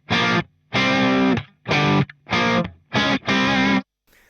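A PRS electric guitar through heavy distortion and reverb, dialed toward a Marshall-style tone, plays six loud sustained chords in an uneven rhythm with brief gaps, the last one cut off into silence.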